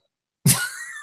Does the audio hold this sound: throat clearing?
yes